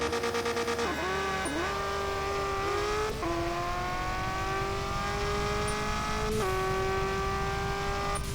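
Car engines roar in a RevHead video game drag race, revving high with repeated gear-shift drops and climbing pitch, loud and continuous throughout.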